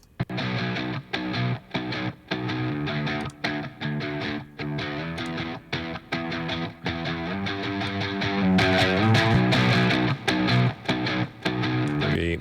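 Guitar run through Heavyocity Punish distortion, loud and heavily gained, playing chugging riffs with sharp, snappy attacks and brief gaps between phrases, growing denser and fuller near the end.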